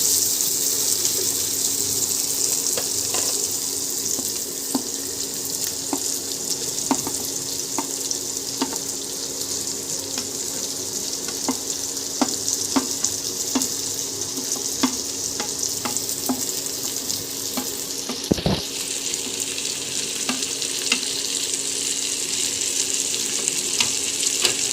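Vegetables and chicken frying together in a pan, a steady loud sizzle running throughout with frequent small clicks and scrapes of stirring, plus one sharp knock near the end.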